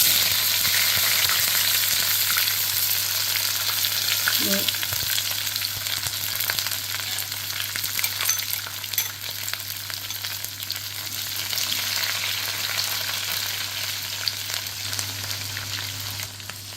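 Onions and curry leaves fry in oil with a steady, close sizzle and crackle that runs unbroken throughout, with occasional faint stirring scrapes and no talking.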